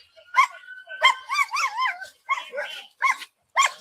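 Several dogs bark and yip in quick bursts, about six short barks with whimpering tones, heard from a played video clip about drug-sniffing dogs, fairly loud with brief gaps between.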